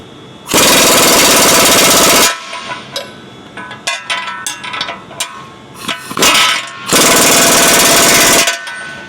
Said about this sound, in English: Tighten up all the front radius arm bolts now that we have our drops installed.